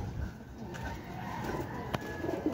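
Racing pigeons coo softly at a loft after a training toss, a low murmuring coo under faint background noise with one brief sharp click near the end.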